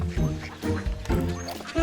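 Ducks quack repeatedly at feeding time, several nasal calls in bursts over a low background, with a voice faintly present under them.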